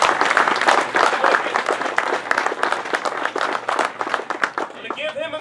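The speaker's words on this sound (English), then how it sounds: "Let's give him a round of applause." An audience at a bass fishing Tournament of Champions on Lake Fork applauds a two-time champion, with steady close clapping throughout and a voice breaking in near the end.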